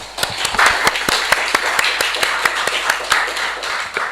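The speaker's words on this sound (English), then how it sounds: "Please give applause." Audience applause at an academic conference as the first presenter is welcomed, made of sparse, distinct handclaps with sharp individual strikes over a light murmur of clapping, fairly close and moderately loud.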